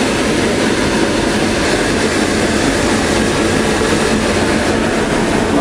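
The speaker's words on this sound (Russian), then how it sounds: "А вон там маленькая дырочка, и через нее очень сильно всасывается воздух," Air is sucked hard through a small hole in an abandoned mine section 300 metres underground, making a loud, constant roaring rush with a rumbling, rattling texture and no pause.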